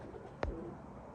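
A Teddy pigeon from Dubai lets out a single short coo against a quiet, noisy background.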